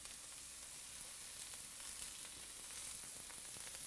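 Steak sears in a hot pan surrounded by vegetables, producing a dense, even sizzle that stays constant and close throughout with no voices.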